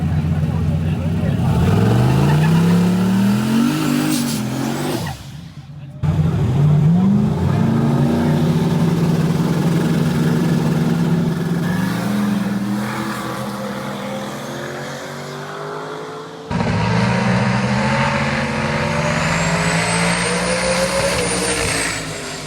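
A street race car roars at full throttle, its engine climbing through gears in long rising sweeps, cutting out briefly and then surging again, loud and close, with a voice talking over it.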